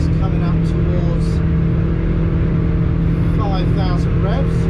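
Jeanneau Merry Fisher 895 motorboat engine running hard at speed on an estuary, a loud steady low drone with wind and water rush throughout, with faint speech over it.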